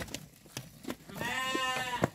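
A sheep lets out one long, wavering bleat close by at a goat and sheep market in Dois Riachos, Alagoas, Brazil, amid scattered knocks and thumps of animals moving.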